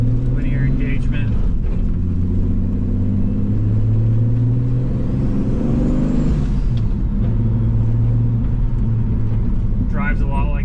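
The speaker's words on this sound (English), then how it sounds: "So here's leaving a stoplight. Smooth, linear engagement." A 2JZ-engined car fitted with a T56 gearbox and twin-disk clutch pulls away from a stoplight, its low engine rumble steady and loud throughout the take-off, with a voice talking over it.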